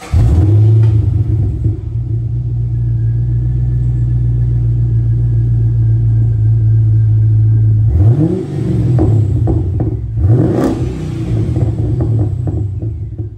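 A Holden WM Caprice V8 with an Ultrex cat-back exhaust idles with a loud, deep, steady rumble, then blips the throttle in two sharp revs and settles back, recorded close by with no talking.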